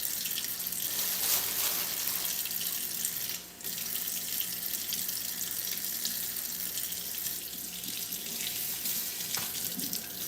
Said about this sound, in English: I'm literally just taking the fruit and washing it like this